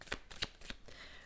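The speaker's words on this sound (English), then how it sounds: "I'm just going to shuffle offline." Tarot cards are shuffled by hand to one side, giving several soft, quick riffling bursts in an uneven rhythm. The sound is quiet and close, with no talk over it.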